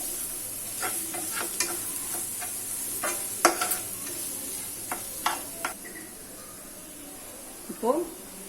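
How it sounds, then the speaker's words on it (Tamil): Onion, tomato and spices frying in a pan for egg kothu parotta, with a steady soft sizzle and scattered scraping clicks of a spoon being stirred through, plus a brief rattle near the end. "எல்லாமே இந்த பச்சை வாசம் போகிற அளவுக்கு"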